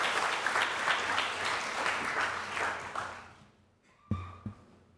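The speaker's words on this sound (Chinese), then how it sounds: "好，我们再一次给他们鼓掌，" A church congregation at a Mandarin-language Sunday service gives a burst of applause, dense clapping from many hands that fades out after about three seconds, followed by a couple of isolated thuds.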